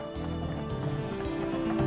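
Horses trot along a road with a short run of hoof clip-clops under a steady, droning background.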